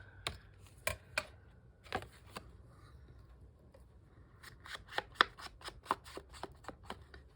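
Scissors cutting words off paper for a craft project, a series of crisp close snips, sparse at first and then quicker and more regular.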